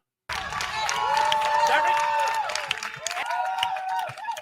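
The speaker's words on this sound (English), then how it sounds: "Now y'all want to cheer for her." A live audience cheers and claps together in a sustained burst at a show, with a steady roar of crowd noise and a voice speaking over it.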